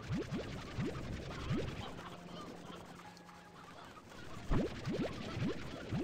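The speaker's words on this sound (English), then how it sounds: "Sounds like I need to fix the chickens again." Clucking and squawking chickens in the Slime Rancher 2 video game, a cluster of sharp rising calls near the start and another near the end, over a steady busy game ambience.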